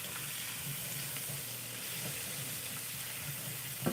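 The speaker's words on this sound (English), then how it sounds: "Let them cook up. There we go. Give them a quick stir." Scallion white parts cooking in a pan while being stirred, a soft even sizzle with faint scraping and stirring touches, fairly quiet and steady with no speech.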